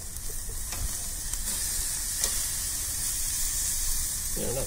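Tenderloin filet steaks sear on a hot Egg grill with a steady, close, crackling sizzle that hisses on without pause and without speech.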